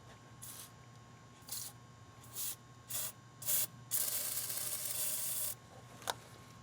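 PB Blaster penetrating oil hisses from an aerosol can onto power steering fittings of a 1996-98 Chevrolet C/K truck. Five quick, quiet bursts are followed by one longer spray and a final short puff.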